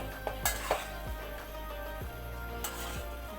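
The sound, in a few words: stirring noodles in a pot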